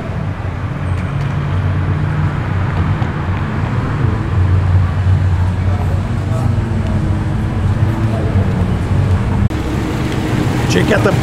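A Holden Monaro's engine rumbles and revs at a car meet at Harry's Cafe de Wheels in Liverpool, a steady, throaty drone amid passing traffic, with voices talking nearby.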